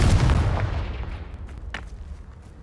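The Confringo blasting spell in Hogwarts Legacy lands as one heavy, booming blast that rolls and fades over about two seconds, followed by a faint crackle, with no speech.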